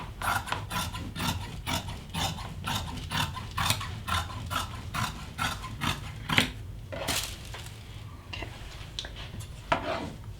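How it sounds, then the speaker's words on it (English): Repeated crisp snipping clicks in a steady rhythm, close by, followed by a few scattered cuts and rustling, as fabric scissors cut between sewing pattern pieces on cloth. "I'm going to cut between the two pattern pieces first."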